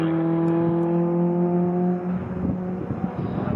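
A racing saloon field at Snetterton, with a BMW M3 duelling for the lead, passes as a steady droning engine roar with a sustained harmonic whine, loud and continuous, shifting in pitch as the cars pass.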